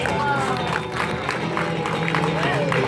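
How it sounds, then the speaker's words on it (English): Audience applause and cheering at an interactive Crush the Sea Turtle show, a lively crowd clapping with voices and chatter mixed in. "Round of applause for Crush!"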